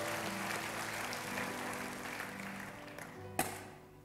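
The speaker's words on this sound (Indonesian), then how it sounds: "Kasih tepuk tangan yang paling kuat buat Tuhan" A church congregation applauds steadily for several seconds during a sermon, a dense wash of clapping that fades slightly toward the end, with one sharp knock near the finish.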